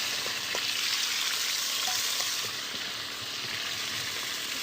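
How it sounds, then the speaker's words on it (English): Chicken drumsticks and wings browning and searing in a pan, a steady close sizzle with occasional pops and faint stirring, no one talking. "I'm just gonna brown and seal off all my chicken"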